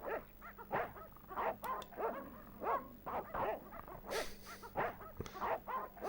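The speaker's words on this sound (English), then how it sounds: "Oh, there are dogs." In the PS1 point-and-click game Broken Sword, several dogs bark in a steady repeating rhythm, yips and whimpers mixed in, moderately loud over a faint background drone.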